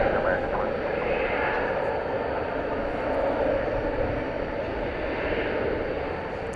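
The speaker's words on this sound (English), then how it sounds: "as that Frontier plane is making that racket." A Frontier Airlines Airbus A321neo takes off at an airport, a loud sustained jet engine roar with broad rumbling noise that holds steady throughout, heard from a distance with no talking.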